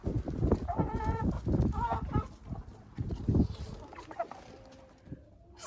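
Hens clucking inside a chicken coop where they shelter from cold wind and rain, a close cluster of short, varied clucks and calls with soft rustling between them.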